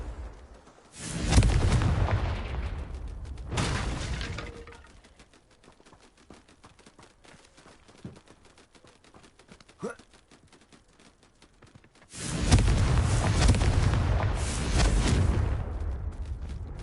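Confringo blasting spell explosions in Hogwarts Legacy, heard as two loud booming bursts near the start followed by a quieter stretch, then a longer roaring blast near the end.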